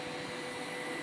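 A Roborock S5 robot vacuum runs its first mapping pass with a steady, even whirring hum of motor and suction, close by and unbroken, with no voices.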